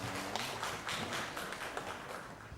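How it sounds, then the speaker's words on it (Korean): Scattered clapping from a church congregation during a Sunday worship service, faint and uneven with soft individual claps merging into a brief light applause. "건강히 박수 올려드리겠습니다."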